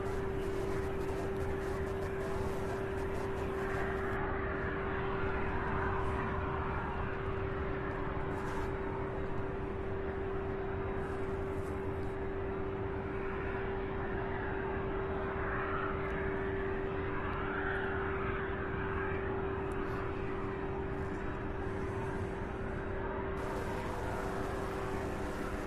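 A UPS Boeing 767 freighter, flight 2990 bound for Spokane, departs Louisville's UPS Worldport; a continuous distant jet rumble holds steady throughout, with a sustained tonal hum over the broadband roar.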